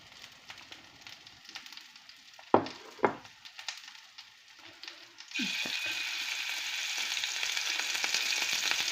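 Veal liver frying in a pan over medium heat: a few sharp knocks and clatters as pieces are laid in, then a loud, steady sizzle that rises and holds for the rest of the clip.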